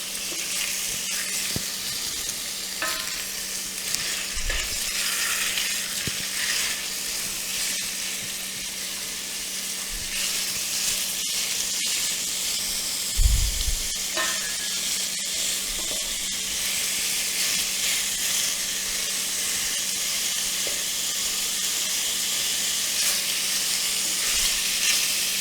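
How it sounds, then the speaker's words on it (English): Ground meat sizzles and fries steadily in a pot for a creamy tortellini soup, a constant bright hiss with occasional scraping thumps as it is stirred and broken up. "you'll just keep stirring it up and breaking it into little pieces or chunks"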